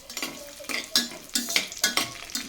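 Whole garam masala fries in oil and ghee inside a cooker, a close sizzle broken by quick, rhythmic stirring scrapes and clinks against the metal pot.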